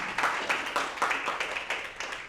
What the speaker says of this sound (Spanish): Aplaude al Señor si deseas.